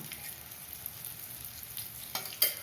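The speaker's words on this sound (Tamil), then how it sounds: "அப்போ தான் ஃப்ரை ஆகும்" Spicy brinjal pieces shallow frying in oil give a steady, faint sizzling hiss, with a couple of soft stirring scrapes near the end.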